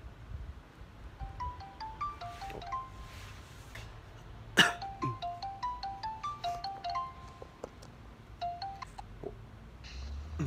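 A phone rings repeatedly while a call is placed from a very messy room, the ringtone's short melodic phrases recurring in steady cycles with a brief sharp knock partway through.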